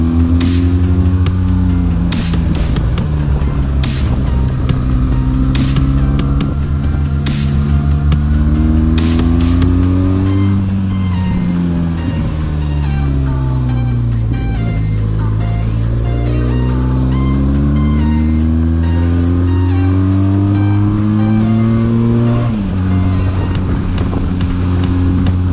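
A 2020 TRK 502X 48-horsepower twin-cylinder motorcycle engine drones loud and close while riding, its pitch climbing and falling through revs and gear changes, with steady wind rush and no talking.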